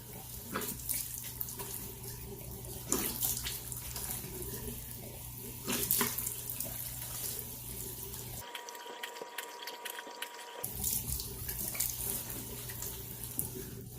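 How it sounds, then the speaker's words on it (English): Tap water runs steadily into a sink while a honey face scrub is rinsed off skin, with splashing and dripping and a brief pause partway through, and no talking. "So let's rinse this off real quick."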